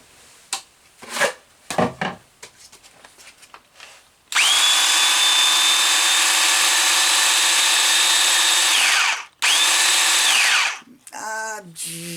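A loud Ryobi electric chainsaw whirs steadily through a cut for about five seconds, stops briefly, then runs again, preceded by scattered handling knocks and clatter.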